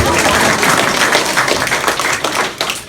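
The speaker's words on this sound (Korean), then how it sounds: "이럴 때 박수도 쳐줘도 돼" Audience applause at a motivational youth lecture, dense continuous clapping from a crowd filling the room, loud and sustained throughout without a break.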